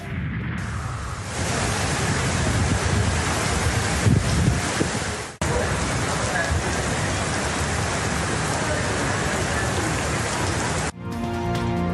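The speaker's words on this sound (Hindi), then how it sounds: "लाहौर में रात गए से शदीद बारिश का सिलसिला जारी" Heavy rain falls at night in Lahore as a dense, steady hiss of pouring water, loud and continuous, with a brief break partway through and no voices.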